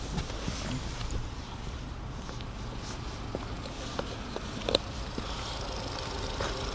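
A quiet 2011 Renault Grand Modus 1.2 TCe 100 petrol engine idles steadily with a low, even rumble, with a few faint clicks and light handling noises over it.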